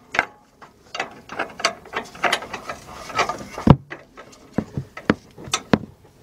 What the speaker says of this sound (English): let's tighten up our motor mount bolts